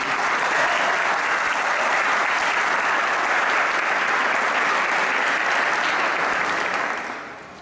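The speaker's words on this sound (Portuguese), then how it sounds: "Se você crê nisso, pode aplaudir ao Senhor." A large church congregation applauds continuously, a dense roar of clapping that holds steady for several seconds before tapering off at the end.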